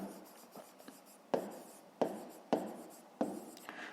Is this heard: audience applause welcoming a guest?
no